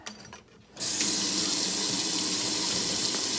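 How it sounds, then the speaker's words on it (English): Water from a sink tap gushes through a trumpet or trombone being rinsed, a steady loud rushing stream that starts abruptly after a quiet moment and continues unbroken, with no voices. "Just rinse it out really good when you're done"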